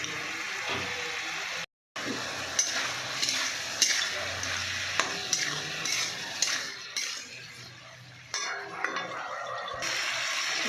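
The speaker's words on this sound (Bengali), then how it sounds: "আলুগুলো দিয়ে ভালো করে কষিয়ে নেবো।" Potatoes sautéed with boiled chickpeas sizzle in a pan, with a spoon repeatedly stirring and clinking against the metal; the sound is close and continuous, broken by one brief cut, and no one speaks.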